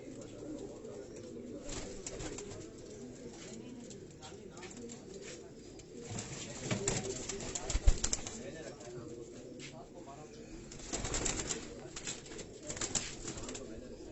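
Rani breed pigeons coo at a Karachi pigeon loft, a low murmuring stream of coos running steadily throughout, with a few louder bursts and people talking now and then.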